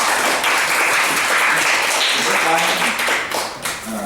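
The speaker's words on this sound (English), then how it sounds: "please give her a big clap" An audience at a Toastmasters club meeting claps for a speaker, a steady wash of applause that runs throughout and thins slightly toward the end.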